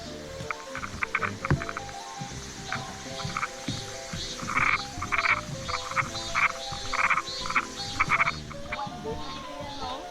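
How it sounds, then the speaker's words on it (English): Rhythmic, pulsing insect calls in a garden, repeated bursts over a steady buzzing background, moderately near and continuous, with low frog-like croaks mixed in. "It's a cicada."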